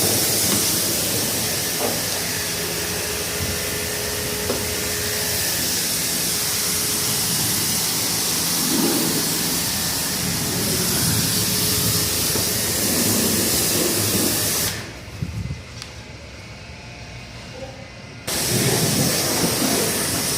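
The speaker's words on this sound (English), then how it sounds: "Just a quick spray down." Water sprays steadily onto a Honda Acty kei truck being washed with product, a loud continuous hiss that cuts out for about three seconds near the end and then resumes.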